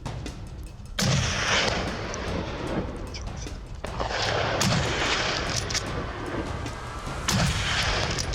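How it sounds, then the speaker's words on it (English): Gunshots ringing out during a wild boar hunt among trees, three heavy booming blasts spaced a few seconds apart, each followed by a long rolling echo that fills the gaps, loud and with no voices. "driven mad by the echo of gunfire ripping through the trees"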